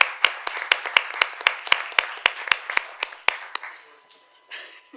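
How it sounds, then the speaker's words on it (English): A conference audience gives a round of applause after a panel session, with sharp, distinct claps spaced at a steady, even beat that slows and fades out towards the end. "Please join me in a round of applause,"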